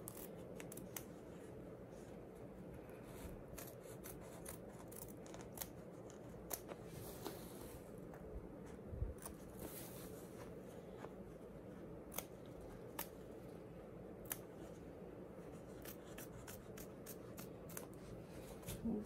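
Small scissors snip stitches on an appliqué heirloom quilted blanket. The cuts are faint and close, scattered unevenly over a quiet background with some light handling noise.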